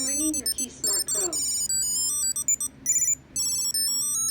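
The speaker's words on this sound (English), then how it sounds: "I'm ringing your KeySmart Pro." KeySmart Pro key finder sounding a loud series of bright electronic ringtone chirps in repeated bursts, close by, starting under a voice speaking briefly at first.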